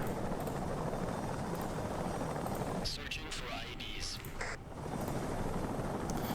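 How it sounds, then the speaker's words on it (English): A Chinook helicopter in Afghanistan drones with a loud, continuous rotor and engine roar throughout, briefly dipping in the middle under sharp bursts of noise. "But we're going to try to get this Chinook back home"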